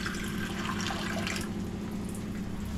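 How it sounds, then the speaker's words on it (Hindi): Water pours from a tap into a cooking pot while Maggi noodles are being made, a steady splashing rush that fills the short stretch close up, with no talk over it. "ये गया पानी"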